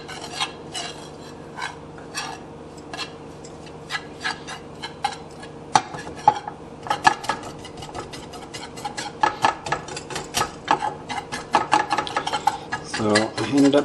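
Flour and butter paste is stirred in a pan with a utensil, giving a run of close, irregular scraping and tapping strokes that grow busier toward the end, with no talking.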